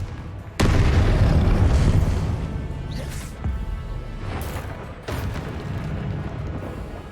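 Loud booming blasts of a Confringo fire spell in a wizard video game, one sudden heavy burst followed by two more explosions, each rumbling and decaying over several seconds.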